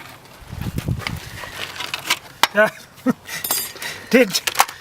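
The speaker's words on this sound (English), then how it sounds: "hubcap off, and for this we'd use something pointy like that" A car hubcap being prised off with a pointy tool from the car's kit during a tyre change: several sharp metallic clinks and scrapes, close and fairly loud, with rustling handling noise in between.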